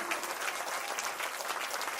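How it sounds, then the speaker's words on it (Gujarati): An audience at a Ram katha religious discourse applauds, a dense, steady burst of clapping from a sizable crowd heard at a moderate distance. "એટલા માટે એકવાર જોરદાર તાળીઓથી અમારા નારાયણભાઈને વધાવો."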